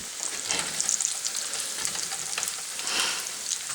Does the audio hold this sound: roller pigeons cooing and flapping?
no